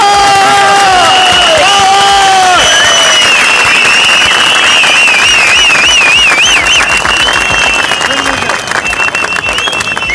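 A large protest crowd in the capital claps, cheers and shouts, with whoops and whistle-like calls, loud and close, in a dense roar that continues throughout.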